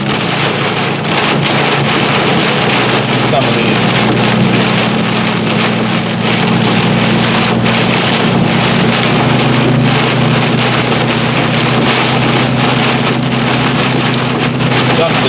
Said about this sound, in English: Man, there's really strong gusts here.